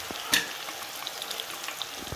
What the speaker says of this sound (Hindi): घी के साथ डाल दिए सोयाबीन की दाली। इसके पास हम डाल रहे हैं हरी मिर्च।